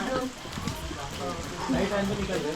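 Steady rain patters throughout at a hilltop fort, with people talking over it.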